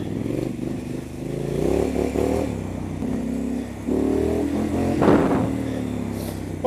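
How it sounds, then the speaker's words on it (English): Triumph Scrambler motorcycle fitted with a Vance and Hines exhaust, a loud, steady engine rumble that rises and falls as it revs while riding, with a brief scraping clatter near the end. "Oh, the noise, the Vance and Hines soundtrack."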